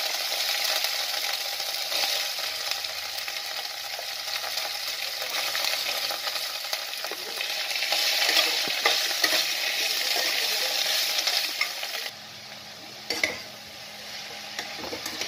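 Bottle gourd and ginger sizzle steadily in a hot pan while being stirred, a continuous close frying hiss with occasional utensil scrapes that thins out near the end.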